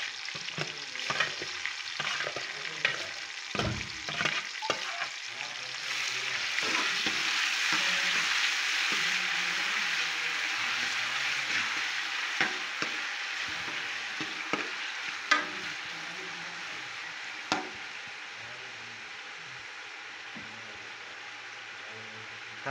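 Onions fry in a pan for chicken curry, a sizzle under frequent stirring clatters and knocks that swells in the middle and stays moderately close, with no voices.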